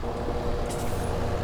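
Tractor engine running in Farming Simulator 17, a continuous low, dense rumble with a steady hiss on top, loud and unbroken for the whole short stretch.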